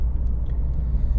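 Abarth 124 Spider driving through town, heard from inside the cabin as a steady low road and engine rumble with no talking.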